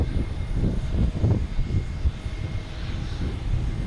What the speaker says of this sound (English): Must have been Spirit firing up its engines.